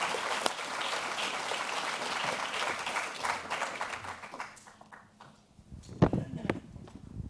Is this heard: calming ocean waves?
no